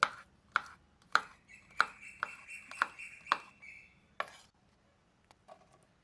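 An aloe vera leaf is cut on a board while making homemade hair oil, producing about nine crisp, separate knife chops in an irregular rhythm, close and fairly clear, with a few fainter taps at the end.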